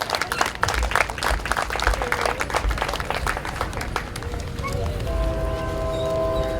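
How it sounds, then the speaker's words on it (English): Applause and clapping from a crowd at a Bark for Life charity event, dense and sustained for several seconds before thinning out toward the end. "So let's give Libby a big round of applause too."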